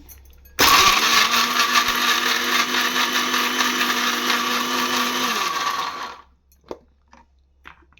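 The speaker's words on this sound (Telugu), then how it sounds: "ఇప్పుడైతే మిక్సీకి అయితే పట్టేసుకున్నాను" A kitchen mixer grinder whirs loudly and steadily for about five seconds, grinding bottle gourd chutney with salt and water, then winds down and stops, followed by a few faint clicks.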